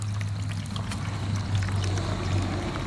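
Coolant flush water drains steadily from the radiator of a 2001 Triumph Sprint RS 955i, with a continuous close pouring and splashing and a low hum underneath.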